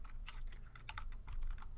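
Someone types a sudo command on a computer keyboard, producing quiet, close, quick clicks in a fast, uneven run of keystrokes.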